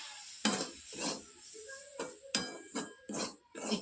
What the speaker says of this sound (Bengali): একটু একটু জল ছিটাবো আর নাড়বো